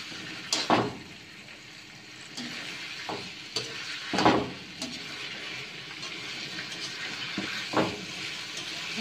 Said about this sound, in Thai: ผัดเลิดนะคะให้หอมนะคะให้สุกน่ะ